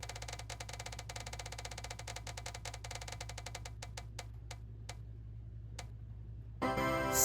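A spinning prize wheel ticks rapidly and evenly at first, then the clicks spread farther apart as it slows and stops, followed by a short burst of louder noise at the end.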